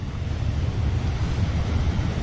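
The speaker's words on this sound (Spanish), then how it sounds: "Una mini y mini cascada ahí." A small waterfall along a trail toward a larger waterfall rushes in a steady broadband wash, loud and constant, with no voices.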